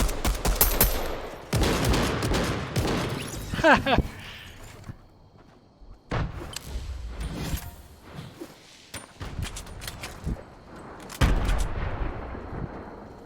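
Shotgun blasts and bursts of gunfire ring out in a Fortnite match, loud irregular shots with short gaps between them, while a player talks over the action.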